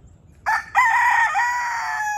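A rooster near a group of hens in a pasture crows once loudly and close, a long drawn-out call after a brief opening note, over a quiet background.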